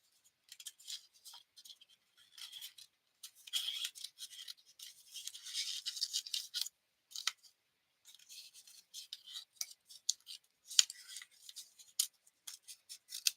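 Quiet, irregular snips and rasping scrapes of scissors working through paper, in short bursts with pauses between, close by and fairly soft.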